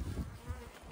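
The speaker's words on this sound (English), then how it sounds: "5 frames of bees." Honey bees hum around the frames of a five-frame hive in extreme heat, a low, wavering buzz that swells and fades close by, with no voices.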